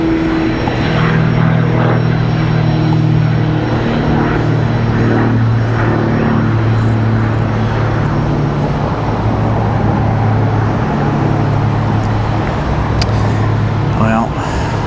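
A departing airliner at Washington Dulles airport roars steadily in the distance on a hot day, a broad low engine rumble holding for the whole stretch with no one talking over it.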